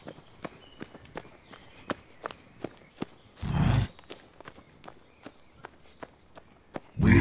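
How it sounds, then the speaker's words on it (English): Footsteps pad along in an even walking rhythm, soft close taps repeating about twice a second, broken by a couple of louder rustling bursts, with no talking. "We hear your footsteps."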